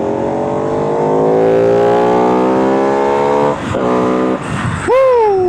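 Buell Super Cruiser motorcycle engine revving hard, its rising tone climbing steadily for several seconds, then dropping briefly and surging again near the end, loud and close throughout.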